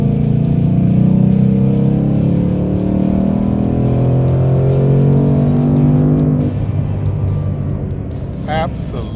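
A 2018 Ford Mustang GT PP2 V8 engine revs loud and close, a deep sustained roar holding steady before dropping away near the end.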